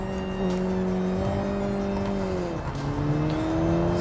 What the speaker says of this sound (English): Almost sounds like it has some anti-lag system. Just how much it pops